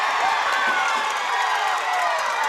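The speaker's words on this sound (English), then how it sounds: "Listen to the crowd for both these teams" Crowd at a high school baseball regional semifinal cheering, whooping and applauding after a game-tying sacrifice flyout, a loud, steady ovation filling the stands throughout.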